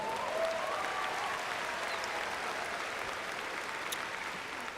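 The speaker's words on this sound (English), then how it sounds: "Give yourselves a big round of applause" Steady applause from a large crowd of graduates at a college commencement ceremony, a dense continuous wash of clapping that holds evenly for the whole stretch without fading.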